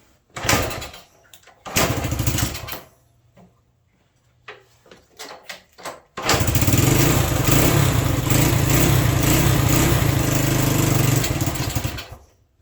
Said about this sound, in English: It's really cold natured. That carburetor may need some adjusting too.